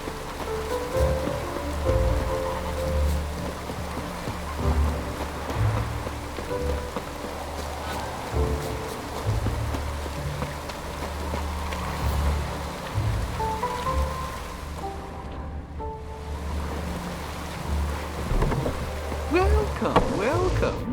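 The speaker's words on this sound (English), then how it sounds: "Rains like this come sowing time." Steady rain falls across a village scene in The Witcher 3: Wild Hunt, a dense, even patter that runs throughout, with game voices and ambient tones layered over the downpour.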